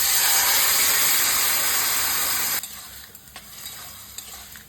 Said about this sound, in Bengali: এরপর লাউ চিংড়িটা ঢেলে দেবো।